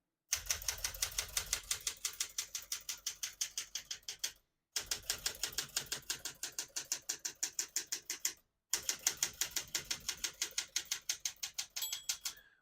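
Rapid key strikes on a 1968 Smith-Corona Super Sterling portable manual typewriter clatter in three steady bursts, each a fast, even run of crisp clacks separated by brief pauses, close and loud, ending with a small bell ding.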